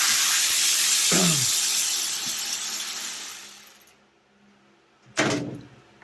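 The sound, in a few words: unscrewing a T25 Torx bolt on a BMW S1000RR kickstand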